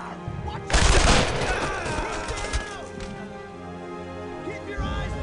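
Gunfire in the World War II game Brothers in Arms on the road to Hill 30, with a loud burst of shots and crashing impacts, then scattered rattling fire and shouting voices.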